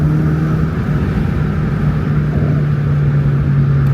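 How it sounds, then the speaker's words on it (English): A supercharged C5 Corvette Z06 engine drones steadily at low revs with a constant supercharger whine layered over the exhaust rumble, close and loud throughout. "So you guys can hear the nice blower."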